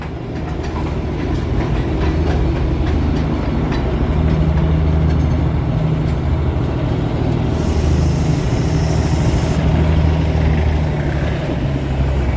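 Darjeeling toy train rolls past on the narrow-gauge hill line, a steady loud rumble and clatter of wheels and cars held throughout at close range, with no voices.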